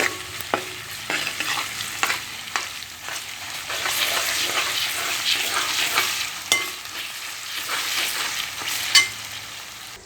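Ginger garlic paste sizzles and fries in a pan while being stirred, a steady crackling hiss broken by repeated scraping strokes of the spoon, close and continuous.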